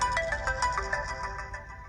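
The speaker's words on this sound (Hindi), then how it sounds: "Video call." A mobile phone rings with an incoming video call, playing a loud, repeating melodic ringtone in quick bright notes without a break.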